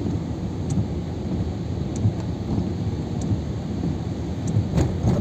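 Rain falls during a drive on the Mumbai-Pune expressway through the ghat section, a steady dense hiss mixed with low road rumble and a few faint ticks, continuous throughout with no talking.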